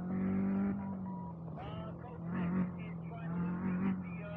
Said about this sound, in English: I'm just driving on a dirt road